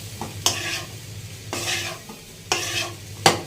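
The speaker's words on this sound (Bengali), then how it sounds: "এখন হলো জাস্ট মিক্সিং মিক্সিং মিক্সিং।" Spicy chicken pasta being stirred in a pan over low heat, with the spoon scraping in four short strokes over a soft, steady sizzle, heard close.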